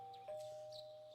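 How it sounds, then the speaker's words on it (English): A two-tone doorbell chime sounds once in Persona 4, clear and steady against a quiet background. "You hear the doorbell ringing."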